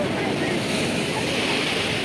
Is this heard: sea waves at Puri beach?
yes